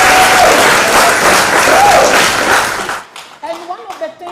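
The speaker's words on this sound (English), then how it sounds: "Clap for her." Loud, dense audience applause at a university food science department gathering fills about three seconds, then fades out as a voice begins speaking.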